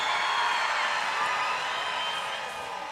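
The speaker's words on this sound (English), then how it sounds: "make some noise if you're cheering for the Red Alliance." A large crowd cheers and whoops for the Red Alliance at a robotics competition championship, a sustained roar of voices filling the space and easing slightly toward the end.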